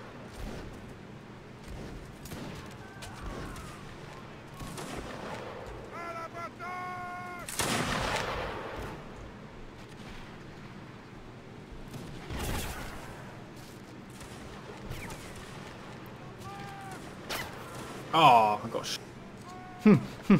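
Musket gunfire on a Mount & Blade Napoleonic Wars siege server, scattered sharp shots and booming volleys near and far, under a player's intermittent talk.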